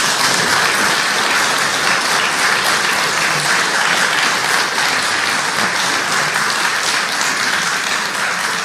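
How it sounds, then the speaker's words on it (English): Sustained applause from an audience at a church synod meeting in July 2023, steady dense clapping throughout, loud and continuous with no break. "dear friends who've just clapped me"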